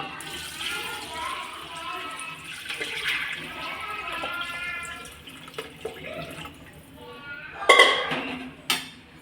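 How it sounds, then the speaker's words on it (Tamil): Water pours into a pot of chicken biryani on the stove, a steady rushing splash with a few sharp clinks of utensils near the end, while a voice talks over the start. "இப்போ நம்ம தண்ணி ஊற்றிக்கலாம்."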